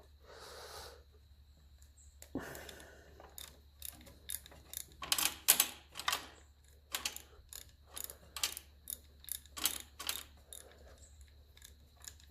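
A 3/8 ratchet loosens a bolt on a 1954 Ferguson 20 TEF diesel tractor, giving a close, irregular series of sharp clicking ratchet strokes over a faint steady hum.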